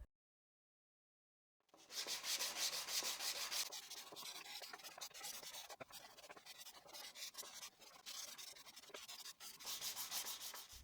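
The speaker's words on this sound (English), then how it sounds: "I'll sand again using 220 grit paper, especially where the router passed" After a moment of silence, 220-grit sandpaper rubs steadily against routed wood in quick back-and-forth strokes, a close, continuous gritty scraping.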